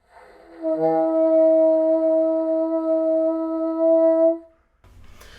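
A single sustained bassoon note played with poor air support holds steadily for about four seconds, thin and a little unfocused in tone, then stops; a brief rustle follows.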